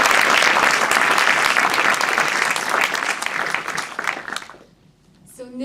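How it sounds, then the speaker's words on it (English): An audience at an honors day ceremony breaks into sustained applause, loud dense clapping that thins out and fades near the end, with a voice beginning to speak as it dies away. "join me in a round of applause for him"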